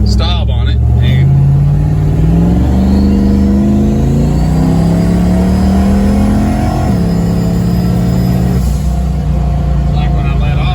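A turbocharged LS V8-swapped Ford Pinto's engine revs hard and climbs steadily in pitch through the gears, loud and close, with a brief dip at a shift.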